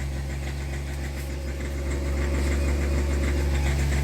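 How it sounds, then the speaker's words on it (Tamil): A Hyundai Xcent or Grand i10 engine runs with a steady, loud rattling drone while its revs climb on their own without the accelerator pressed, the hum swelling slightly partway through. "அதேமாரி இன்ஜின் வந்து கரக்கராங்குது."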